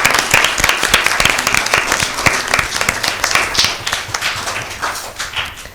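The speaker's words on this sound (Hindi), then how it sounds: "हम भरपूर तालियों से आपको अप्रिशिएट करते हैं।" Sustained audience applause at a Bible quiz show, brisk and fairly close, with distinct individual claps standing out before it gradually tapers off.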